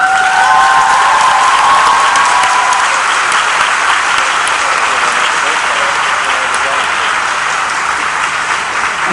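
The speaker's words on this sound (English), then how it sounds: "Please rise and give them applause" A high school graduating class of 2011 rises to applaud school staff at a graduation ceremony, a loud, dense wash of crowd clapping with some cheering, sustained and unbroken across the whole stretch.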